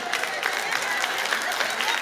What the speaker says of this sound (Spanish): Siento un aplauso femenino